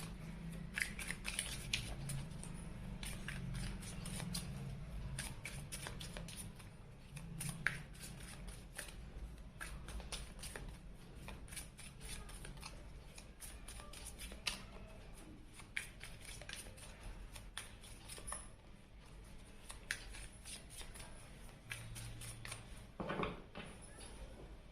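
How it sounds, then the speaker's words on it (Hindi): Tarot cards being shuffled by hand, a long run of quiet, close, rapid riffling and flicking bursts repeating throughout. "तो चलिए हम कार्ड शफल करते हैं"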